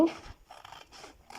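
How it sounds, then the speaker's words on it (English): Scissors trim a handmade sandal pattern in a few quiet, crisp snipping bursts separated by short pauses, close by and alone. "let's go this way and trim this as well"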